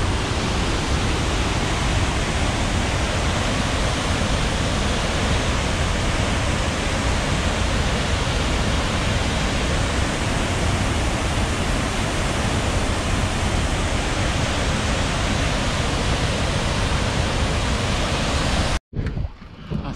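Rain-swollen river rushing over a flooded track, a dense, steady roar of water filling the whole clip at close range, cut off abruptly just before the end.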